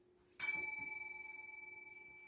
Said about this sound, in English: A bicycle bell might do that.